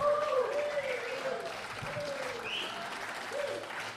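A theatre audience applauds at the end of a play, with dense, steady clapping that fills the whole stretch and eases off slightly toward the end.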